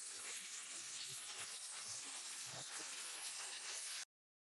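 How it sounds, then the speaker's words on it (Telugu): Green chillies and curry leaves fry in hot oil for pulihora, giving a loud, steady hissing sizzle throughout with a few soft pops before it cuts off abruptly. "ఇప్పుడు పచ్చిమిర్చి అలాగే కరివేపాకు కూడా వేసేసుకొని వేయించేసుకుందాం."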